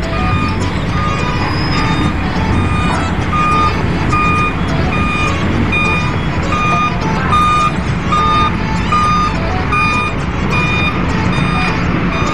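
Vehicles roll off a passenger ship bound for Marinduque, with steady repeating reversing beeps over a loud, dense wash of engine rumble and crowd noise, voices mixed in throughout.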